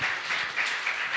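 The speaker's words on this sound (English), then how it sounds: "now sponsor applause for Piñata." Audience applause fills a brief moment at the ETHBerlin³ hackathon opening ceremony in 2022 as a sponsor is welcomed, steady and moderately loud throughout with no talk.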